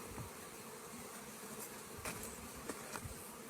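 Steady insect buzzing, Giresun honeybees droning continuously at close range with a few brief louder passes, no voices.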